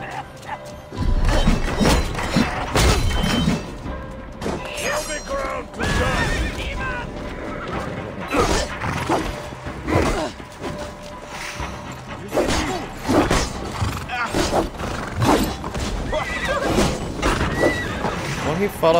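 Horse neighing and whinnying in Assassin's Creed Valhalla during the Siege of Paris, with clip-clopping hooves, crashes and battle noise around it; a voice talks intermittently over the busy game sound.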